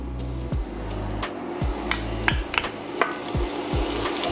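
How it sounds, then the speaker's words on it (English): Minced garlic sizzles in a hot pan for a pasta sauce, a steady crackling hiss with repeated low knocks and scrapes as a utensil stirs it at a regular pace. "once it comes up to temp, you want to go ahead and put your minced garlic inside"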